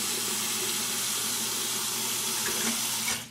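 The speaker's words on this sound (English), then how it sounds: "in a clean sink, you get some super hot water" Super hot water runs from a tap into a clean sink, a steady broadband gushing hiss that stays loud and even, then tapers off at the end; no one speaks.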